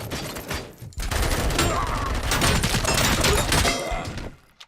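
Rapid weapon fire in Robocop: Rogue City, a dense, loud burst of shots running almost continuously for several seconds before cutting off.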